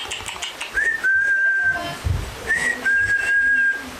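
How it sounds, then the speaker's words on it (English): An elderly man whistles two long, high, steady tones with a short rising start to each, close and clear, with brief pauses and rustling between. "Hello, Luke, it's great-grandpa whistling."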